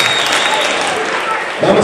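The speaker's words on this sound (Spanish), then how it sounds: "Fuerte aplauso para ellos" Loud, sustained crowd applause at a youth sports final greets the team after the player introductions, with a voice starting to talk near the end.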